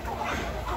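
A flock of young mixed-breed roosters from the Mekong Delta clucks in a pen, a brief burst of overlapping close clucks and low chatter.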